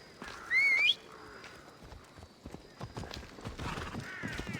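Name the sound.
horse hooves clip-clopping in Assassin's Creed Odyssey video game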